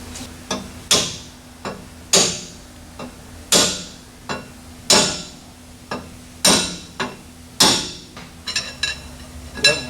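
Sharp metallic hammer blows drive a pinion bearing into place in a Ford 8.8 rear end, about a dozen ringing strikes in an irregular rhythm, loud and close, each decaying quickly.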